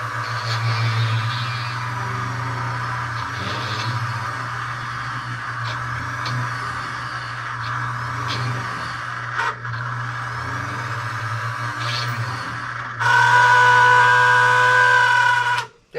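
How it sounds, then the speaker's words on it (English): Jewelry drill with a cold drive belt, running as a steady droning whir with scraping and ticking for several seconds, then a louder, higher whine near the end before it cuts off; close and with no talking. "That noise is because the belt is cold and it doesn't like it."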